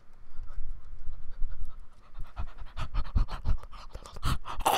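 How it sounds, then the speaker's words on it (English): A person pants heavily in rapid, rhythmic breaths while playing a Minecraft-style Hypixel game, loud and close with scratchy mic noise. "Me panting."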